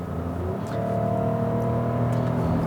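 A 2019 Lexus RX 350L's 3.5-liter V6 pulls smoothly under acceleration, a steady droning hum with a gently rising engine note and no talking.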